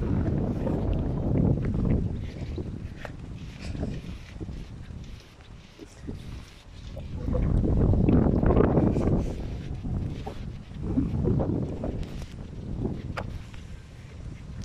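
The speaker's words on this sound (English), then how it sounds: "Ooh, it's very windy." Strong wind gusts buffet the microphone outdoors by a city waterfront in Frankfurt, surging and fading in rough, uneven waves that swell loudest midway through, with no talking.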